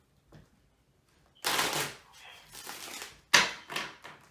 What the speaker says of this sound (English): I'm going to get the cards a couple shuffles